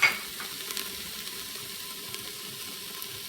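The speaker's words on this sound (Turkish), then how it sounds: "Şimdi baharatlarımı atacağım." Spices hit hot oil in a pan for cabbage soup, giving a soft, steady sizzle that stays fairly faint throughout.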